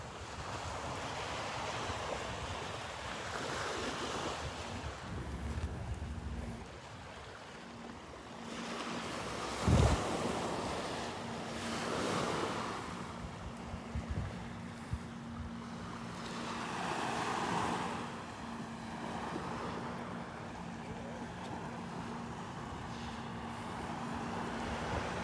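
Surf washing onto the beach at Delnor-Wiggins, a steady broad roar of waves with wind buffeting the microphone, rising and falling in slow swells over about twenty-five seconds.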